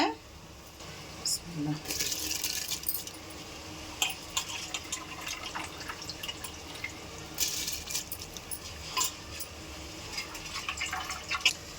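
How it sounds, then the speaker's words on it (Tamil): Water bubbling at a boil in a pot before rice is added, a steady noisy churn with intermittent louder hissing bursts. "தண்ணி நல்லா கொதிக்குது"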